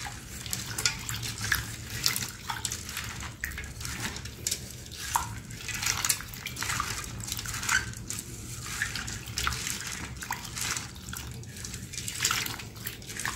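Lentils being rinsed in clean water at a kitchen sink, a steady wash of running and sloshing water with small splashes and drips throughout, close and continuous.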